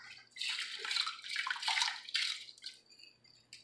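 Two cups of brown rice poured into a pot holding four cups of water on the stove, a close, bright rushing patter in several bursts over a few seconds, with no talking.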